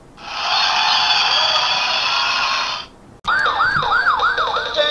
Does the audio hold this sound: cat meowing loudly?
no